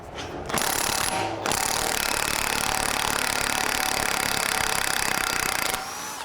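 A loud rapid hammering rattle of an impact wrench with a 30mm 12-point socket on a Toyota Auris axle nut bursts briefly, pauses, then runs continuously for several seconds before stopping, close by.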